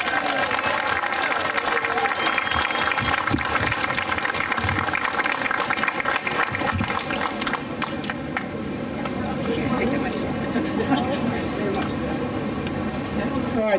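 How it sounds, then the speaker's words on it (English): Steady applause from a university lecture audience fills the whole stretch, a dense wash of clapping that holds level throughout. "Big round of applause for Professor Ortega."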